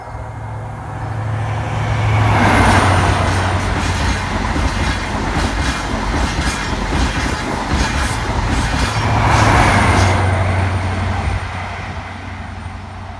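A train passes over the Grove Road level crossing, loud rolling wheels and clickety-clack swelling twice as units go by, with a steady warning tone running beneath.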